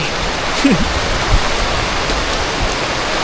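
Heavy rain falling on a farm, a dense loud steady hiss of downpour throughout, with a brief voice exclamation near the start.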